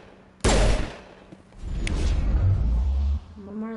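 Gunfire in Mass Effect, heard as one loud, sharp shot that opens with a strong burst. Quieter rumbling combat noise follows, and a faint voice-like tone comes near the end.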